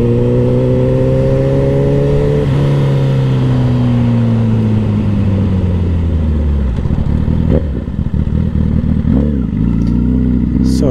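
Motorcycle engine held loud and close as it revs and drops while gear shifts are rev matched, pitch rising and falling steadily with brief dips at each shift.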